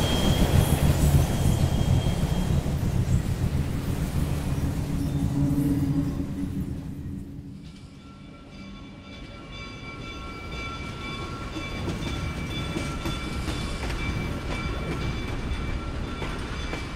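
A passenger train runs on its rails, rumbling loudly and steadily with wheel noise and a few squeals, the roar easing briefly partway through before settling into a steady clatter.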